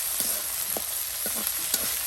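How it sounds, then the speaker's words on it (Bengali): Spice paste being sautéed in a pan for a traditional Garo hill tribal dish, with a steady low sizzle and a few soft scraping stirs at irregular intervals, close by and without talk. "আদিবাসী দিদি কত সুন্দর করে আপনার মশলাটা কষাচ্ছে"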